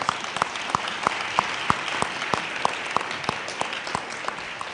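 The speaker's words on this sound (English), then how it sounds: "Give yourselves a round of applause." Steady applause from a crowd, a dense patter of clapping with sharper individual claps standing out, moderately loud and continuous throughout.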